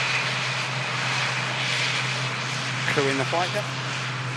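A propeller aircraft taxis past at Manchester Airport, a steady droning engine hum with a constant low tone under ambient noise, while a voice briefly speaks over it.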